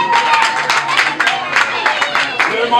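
Audience at a school cultural day clapping in scattered bursts, a rhythmic ragged patter close by, mixed with loud voices from an announcer and crowd.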